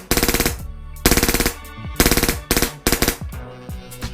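An Elite Force HK416 airsoft rifle fitted with a PolarStar Jack fires full auto in about seven quick, snapping bursts of rapid shots, close and loud, with short pauses between them.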